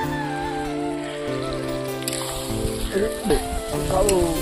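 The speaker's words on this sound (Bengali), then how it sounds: "মাংস প্রায় আমাদের কষা হয়ে গেছে এই আলুটা দিয়ে দিল" Potato chunks tossed into meat curry frying in a pan at an outdoor picnic, a steady crackling sizzle with stirring clatter and sputtering bursts; a voice speaks briefly over the frying.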